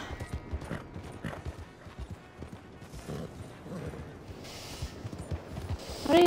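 Hooves clip-clopping at a steady trot in Red Dead Redemption 2, with game ambience, a continuous rhythmic clatter that ends with a brief whinny.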